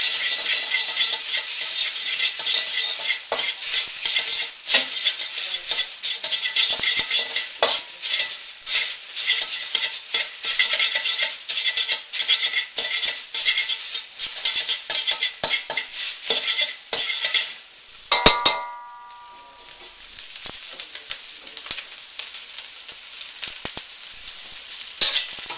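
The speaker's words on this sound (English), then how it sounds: "You want to stir your pork around until there's no pink" Pork stir-frying in a wok with garlic, ginger and black beans gives a steady close sizzle, broken by repeated scraping and clattering stirs and one brief louder clank.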